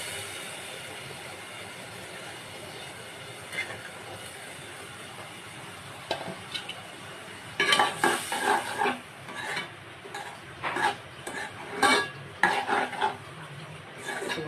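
Boiled lentils tipped into a pan with shredded coconut and stirred, giving a run of close scraping and clinking spoon-against-pan sounds in uneven bursts over a low kitchen background.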